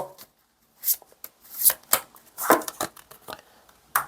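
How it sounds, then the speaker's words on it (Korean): Tarot cards being shuffled and drawn for a reading, a run of crisp riffling bursts and slaps after a short pause, close by with no talk. "마지막으로 조언 카드 제가 뽑아볼게요"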